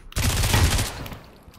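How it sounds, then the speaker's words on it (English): In Pavlov VR, a short, sharp burst of rapid gunshots rings out close and loud, then fades into a brief decaying tail. "I shoot you in the foot."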